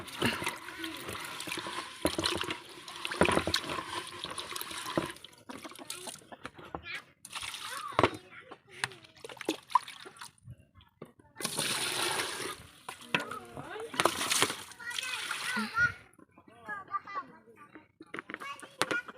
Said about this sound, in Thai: นี่ก็มาเอาสกอตล้างถ้วย เอามาล้างให้มันสะอาดนะพี่น้อง